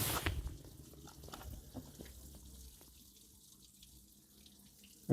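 Water running steadily during a BMW E31 V8 thermostat repair with coolant draining, a faint continuous trickle and splatter with clunks of work early on and a sharp knock at the end.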